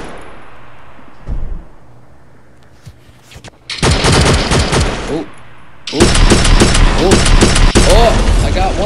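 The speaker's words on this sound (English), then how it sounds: "Somehow I'm still shooting." In the mobile shooter game Infinity Ops, loud bursts of rapid automatic gunfire and booms ring out, with a few isolated shots early and then two long sustained volleys. A voice speaks over the shooting.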